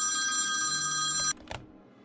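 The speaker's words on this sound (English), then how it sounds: "He finds the ringing phone and picks up." An office telephone rings with a bright electronic trill that cuts off partway through, followed by a short clatter as the receiver is picked up in a quiet room.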